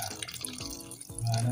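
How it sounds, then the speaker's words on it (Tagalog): Water splashes and pours into a pot of cooking chicken, brief sloshing and dripping, growing into a steady stream at the end. "pwede na natin lagyan ng tubig"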